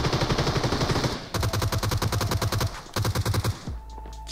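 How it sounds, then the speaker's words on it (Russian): Rapid bursts of automatic gunfire in PUBG Mobile's Metro Royale mode, loud and close, firing in sustained volleys with a short break, then cutting off abruptly. "Но откуда столько выстрелов?"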